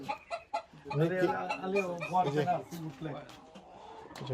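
Native hens cluck and murmur nearby in short bursts on a farm in Belgium, with a person talking over them and scattered clucks continuing afterward.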